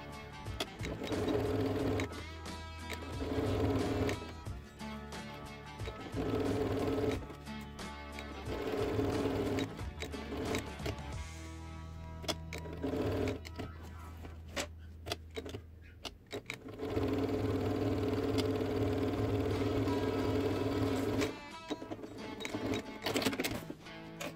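Sewing machine stitching a straight seam along the edge of a cotton strap, running in several steady bursts separated by short pauses, close and moderately quiet with no talk.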